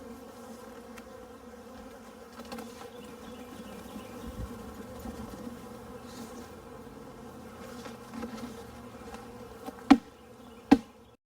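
Close, continuous buzzing of many honeybees around an open hive being split, droning steadily with a couple of sharp knocks near the end.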